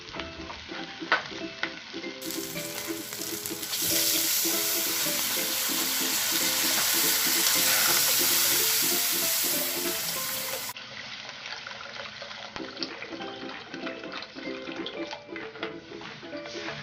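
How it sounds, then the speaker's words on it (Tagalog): Water hits a hot pan of onions and erupts into a loud hiss that holds for several seconds, then settles back to a quieter sizzle with light stirring, while cooking pancit bato. "lagyan po natin siya ng tubig"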